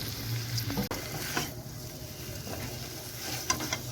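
Paneer, carrots and other vegetables fry in a spiced pan for a vegetarian paneer dish, with a steady sizzle broken by scraping stirs and a few clicks of the utensil, heard close and without talk.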